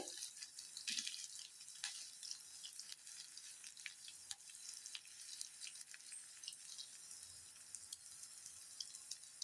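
Evening tea-time snacks frying in oil in a pan, a steady soft sizzle with crackling pops scattered throughout, close and fairly quiet.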